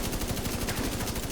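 Rapid automatic gunfire in The Division 2, a dense stream of evenly spaced shots delivered loudly and close for just over a second.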